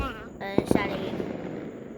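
Fireworks going off outdoors, with a few sharp cracking bangs in quick succession followed by a crackling tail, as people react loudly nearby.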